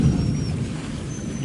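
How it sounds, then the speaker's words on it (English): Thunder during a storm at a shrimp pond rumbles low and steady, a continuous dull roll with rain-like hiss, fairly loud and close. "That thunder is getting closer and louder."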